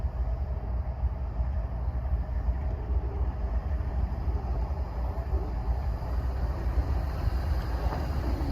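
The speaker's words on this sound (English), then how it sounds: "here comes the high rail truck" A model high rail truck runs along a layout at a church train show, giving a steady low rumbling hum that stays even throughout with no voices.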